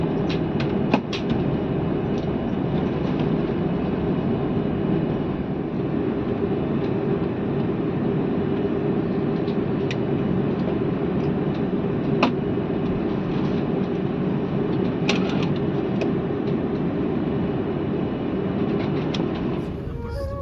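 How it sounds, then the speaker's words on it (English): Cathay Pacific jet taxiing at Hong Kong airport, a steady low cabin rumble and hum with occasional clicks and rattles, continuous and muffled as heard from inside the aircraft, with faint speech at times. "Really cool to taxi at Hong Kong airport."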